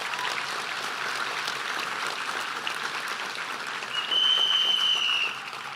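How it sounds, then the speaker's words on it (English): Sustained audience applause fills a graduation ceremony for health sciences graduands, a dense steady patter of many hands clapping, with a brief shrill whistle cutting through near the end. "let's give them a round of applause."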